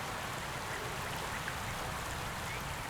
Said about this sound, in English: Beautiful waterfall right here.